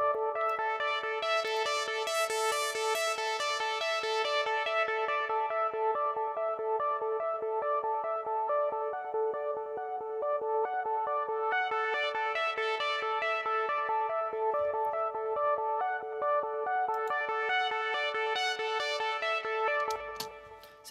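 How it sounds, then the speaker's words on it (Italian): A sustained synth plays bright, shimmering chords in a mix, with a filtered delay trailing at an even level while the dry sound swells brighter and fades back, continuous and without talk. "il delay che viene pilotato dal synth stesso, essendo chiuso da un filtro, rimane a livello costante"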